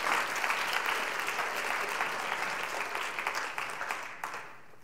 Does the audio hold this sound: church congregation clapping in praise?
yes